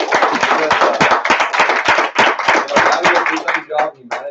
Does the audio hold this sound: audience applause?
yes